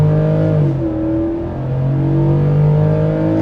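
A 2025 Ford F-150 Tremor with the 5.0 V8 revs hard and accelerates, a loud steady engine drone with rising and falling harmonic pitch, heard from inside the cabin with no talking.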